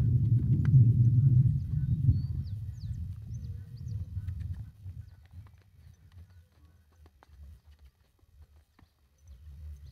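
A Crioulo horse, only a few days into bit training, works in a circle on the rein, with its hooves thudding in a steady rhythm. The hoofbeats are loud and close at first, then fade to a fainter, softer plodding.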